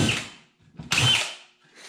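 A power drill whirs into a ski in two short bursts, the second louder and longer, with a brief pause between them.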